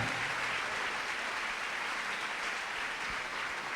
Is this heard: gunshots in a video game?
no